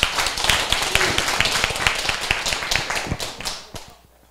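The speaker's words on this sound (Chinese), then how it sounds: "请大家用热烈的掌声欢迎" A classroom audience applauds to welcome a lecturer, with dense, steady clapping that carries on for a few seconds and then thins out and fades.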